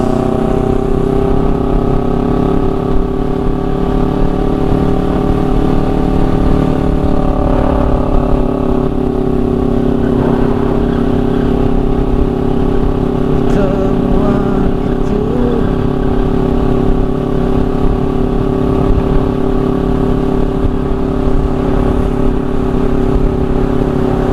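Steady, loud motorcycle engine drone from a bike carrying two riders through rainy midnight streets of Makassar, holding an even hum for the whole stretch with no talking.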